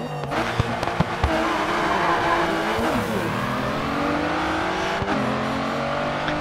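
Racing car engines in a Grid 2 multiplayer race against a KTM, a steady droning whine with shifting pitch, scattered sharp cracks and pops over it, moderately loud throughout.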